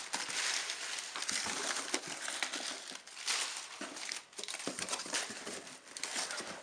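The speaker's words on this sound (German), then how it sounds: "Entfernen wir erstmal ein bisschen Papier" Packing paper is pulled and crumpled out of a parcel of fireworks, a loud, close, continuous crinkling and rustling with brief pauses between handfuls.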